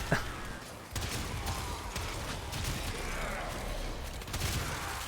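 A Warframe laser beam weapon hums and crackles in a steady, dense stream, followed by mechanical reload clicks, all fairly quiet with game ambience underneath.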